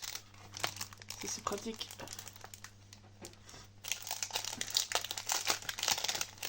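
Plastic sticker-pack wrapping crinkles and rustles close by, with small tearing sounds as the packets are opened while someone speaks French over the noise.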